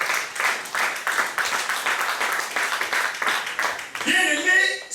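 A church congregation at a Sunday harvest service claps in a steady rhythmic beat, loud and close, before a voice starts singing at the end.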